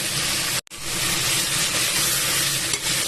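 Bitter gourd pieces tossed into a hot pan with sautéed tomato and curry leaves give a loud, steady sizzle with constant hiss, broken by one brief dropout as the gourd goes in.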